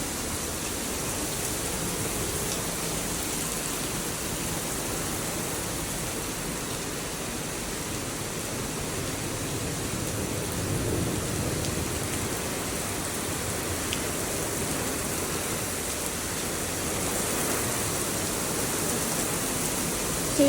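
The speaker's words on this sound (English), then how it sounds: "is quite a strong storm. Probably might be one of the strongest I've been in." A strong thunderstorm brings heavy rain and gusting wind, a dense, unbroken roar of downpour and buffeting air that stays loud and steady throughout with no talking.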